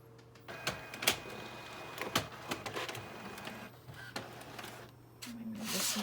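An inkjet printer prints a journaling page at home, with whirring carriage passes, clicks and clunks of paper feed in a quiet room, moderately close and mostly alone.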